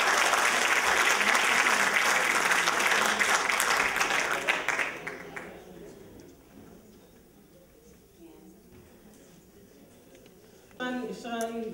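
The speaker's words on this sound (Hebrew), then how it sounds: "קדימה, לחיות כפיים לזמרות שלנו." Audience applause for amateur women singers at an Aramaic song evening in Rishon LeZion, loud and dense for about five seconds, then fading into a quiet hall before a brief burst of music near the end.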